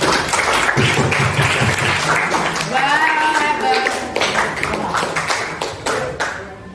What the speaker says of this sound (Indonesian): Ya, berikan aplaus untuk kelompok 1.